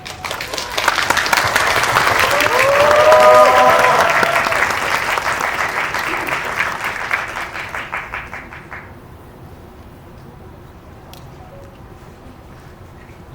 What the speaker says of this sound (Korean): 오늘의 주인공 전종서 배우님 곧 입장하시면 뜨거운 박수 부탁드리겠습니다